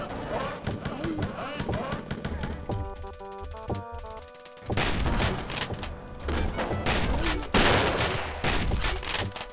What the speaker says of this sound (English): One loud rifle shot.